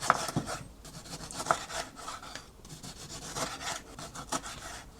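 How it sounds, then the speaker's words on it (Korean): Vegetables being prepared for a turkey ham and avocado sandwich, giving soft rubbing and rasping scrapes with a few light knocks on a wooden board, close by and with no talking. "해놨으면 들어갈 야채를 손질을 해줍니다."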